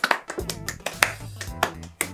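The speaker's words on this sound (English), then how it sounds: "give yourself a big round of applause" Children give a short round of applause: a handful of separate, fairly close claps in an uneven rhythm, with musical sound in the background.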